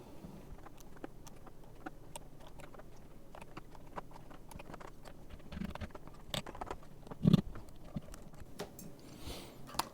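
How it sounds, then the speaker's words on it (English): Keycaps are pressed back onto a mechanical keyboard, producing faint scattered plastic clicks and taps in an irregular rhythm, with one louder snap near the end. "we're going to put these caps back on the board"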